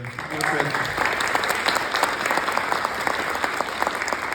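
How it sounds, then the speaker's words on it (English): A crowd claps steadily at an annual town meeting, a dense burst of applause that starts quickly and holds at full volume throughout. "I'd like to ask everybody to give Mayor Backus a round of applause"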